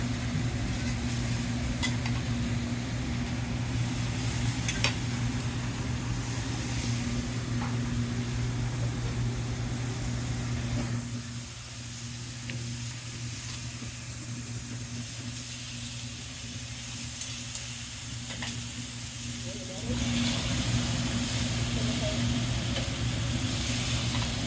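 Food sizzling and being stirred at a Japanese restaurant, a steady hiss of frying with scrapes and clinks throughout and a low kitchen hum underneath, easing off briefly partway before picking up again.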